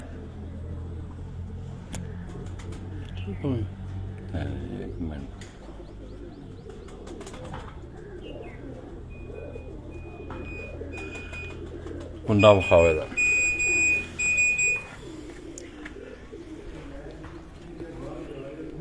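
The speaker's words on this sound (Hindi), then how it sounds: "ये अब ब्रीडिंग में है ये कबूतर" Breeding pigeons coo softly nearby while people talk over them, with a brief louder clatter partway through.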